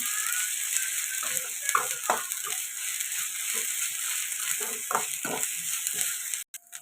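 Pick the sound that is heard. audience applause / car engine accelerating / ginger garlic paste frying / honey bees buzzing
ginger garlic paste frying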